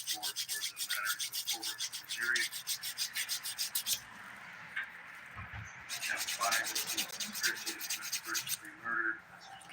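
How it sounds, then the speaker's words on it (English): Close-up rhythmic rasping of a 180 grit nail file worked along a bumpy nail sidewall, quick back-and-forth strokes in two bursts with a brief pause between, fairly quiet and alone. "I'm using the 180 grit side of my file."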